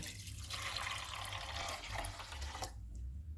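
Water, 2.5 cups, pours steadily into a pot of soaked chana dal for a few seconds, a continuous splashing rush that fades near the end.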